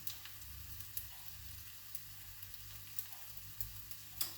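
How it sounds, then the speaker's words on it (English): Tempeh sizzles and spits in a frying pan over medium heat, a steady close crackle with occasional sharper pops and stirring scrapes, no voices. "So let's just fry it on a medium heat for 10 minutes"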